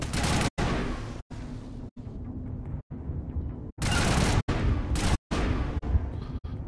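Gunfire in the Mass Effect video game: dense, loud bursts of shots and booms that come back again and again, broken by short silent gaps, with no talk over them.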